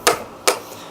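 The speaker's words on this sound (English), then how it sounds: "I really just tap these in." Two crisp taps about half a second apart as plastic pipe fittings are knocked into drilled holes on a homemade lettuce tower, each a short, close, wooden-sounding knock.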